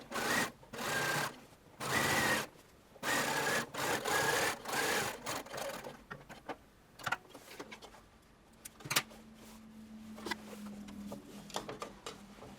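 A sewing machine top-stitches the rever collar of a shirtwaister dress in several loud bursts of rapid whirring stitching, close up, followed by quieter handling, clicks and rustling of fabric.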